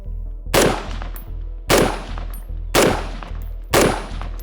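A G36 rifle fires four evenly spaced single shots, each a loud sharp crack with a ringing decay, roughly one per second.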